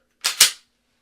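A pistol trigger pulled on an empty chamber during dry-fire practice, giving two quick, sharp mechanical clicks close together, each with a short bright snap and nothing after.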